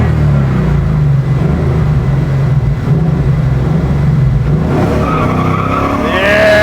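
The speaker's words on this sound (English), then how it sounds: "you really got to tack this car up to get those wheels to spin" A 1968 Ford Mustang Bullitt restomod spins its wheels, a loud continuous engine roar with tire skid that swells into a rising squeal toward the end.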